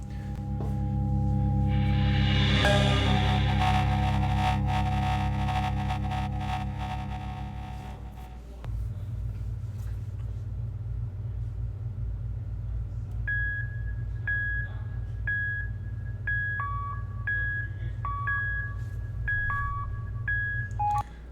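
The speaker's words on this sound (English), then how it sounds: "They programmed it into a synthesizer to create what the resonance quality of the ring sounds like." Synthesizer tones recreating the resonance of an orbital ring: a loud sustained droning chord with a rising sweep gives way to a low buzzing hum, later overlaid by repeated short high electronic beeps.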